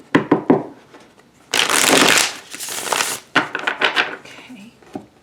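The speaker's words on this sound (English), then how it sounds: "let's do one more good shuffle" Tarot cards being shuffled in several bursts: quick flicking riffles at first, then a long dense cascade of card slaps, followed by shorter shuffling rustles, close and fairly loud in a quiet room.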